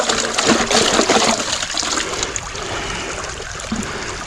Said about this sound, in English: Fold the mat over itself. And we give it a good wash.